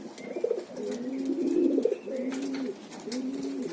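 Pigeons coo close by in soft, repeated throaty rolls, several overlapping calls with faint fluttering and background noise.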